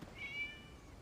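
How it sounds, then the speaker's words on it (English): A short single meow from a cat in the video game Genshin Impact, a brief faint high-pitched call heard alone. "It's a cat."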